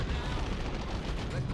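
Dense gunfire in the strategy game Dawn of War 2, a continuous rattle of overlapping shots and explosions, loud and without pause throughout.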